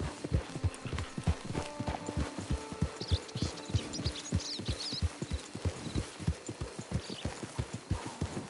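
Hooves of a horse in Red Dead Redemption 2 Online on PS4 clip-clop in a brisk, regular trotting rhythm, close and clear, with faint chirps in the background and no talking.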